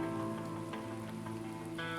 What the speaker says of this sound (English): Finding peace in the rain is about enjoying the calm sound it makes, feeling refreshed by it